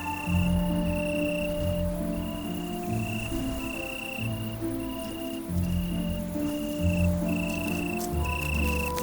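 Steady, rhythmic chirping of crickets and other insects on a city night, continuous pulsing trills layered over a faint background hum, with no voices.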